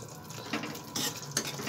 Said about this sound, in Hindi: और इसको कर दूंगी मैं अच्छे तरीके से इस मसाले को